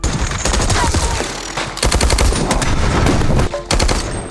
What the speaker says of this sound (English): The Germans quickly got down and fought back, firing wildly at the female soldiers.